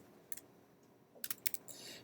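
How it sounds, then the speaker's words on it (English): A computer keyboard is typed on in two short bursts, a couple of light clicks and then a quicker run of keystrokes, close and fairly quiet. "you'll type in a for statement, or type in the word for"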